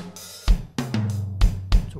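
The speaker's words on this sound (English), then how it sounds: "to wooden snare" An arranger keyboard plays a wooden snare drum voice, with four sharp, punchy hits in a regular beat, each over sustained tonal keyboard notes, close and clear.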